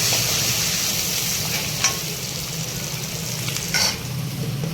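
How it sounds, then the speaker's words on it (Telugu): Ginger garlic paste with a little turmeric fries in a pan, a steady close sizzle with a couple of brief stirring scrapes. "అల్లం వెల్లుల్లి పేస్ట్ పచ్చివాసం పోయే వరకు వేయించుకున్న తర్వాత"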